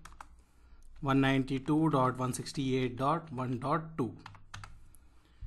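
Keyboard keys clicking at a networking switch setup as a ping command is typed, soft scattered taps heard before and after someone speaks over them.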